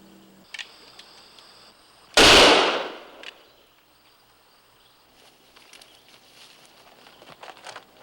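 A single loud gunshot from a period frontier setting cracks out sharply and close, decaying over about a second, with faint ambient noises and insect-like chirps before and after.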